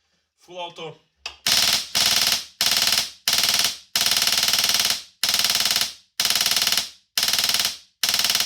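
Full-auto bursts from an LCT RPD airsoft machine gun running HPA with an F2 engine at around 70 PSI, after a brief spoken word: nine or so loud, close, buzzing bursts of varying length, separated by short gaps.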